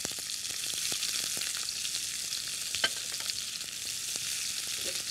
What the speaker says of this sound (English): we'll saute the onion for a few minutes